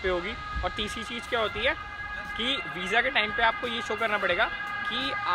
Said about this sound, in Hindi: एम्बुलेंस है भाई, इसको तो कुछ नहीं कह सकते ना।